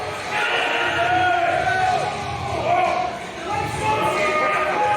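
A dense crowd roars steadily at a strongman competition as an athlete makes a national record lift, a loud, continuous wall of cheering with voices talking over it.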